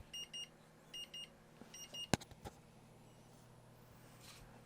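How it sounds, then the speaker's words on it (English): An N20 12V/24V 10A/20A smart charger for lithium and lead acid batteries beeps on reconnect: paired high beeps repeat three times, then a sharp spark snap and a click. "Beeping."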